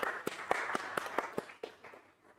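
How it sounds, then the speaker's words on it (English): A handful of people clapping at a small tech meetup, distinct individual claps in a loose rhythm that fade out after about two seconds, fairly quiet and close. "Applause."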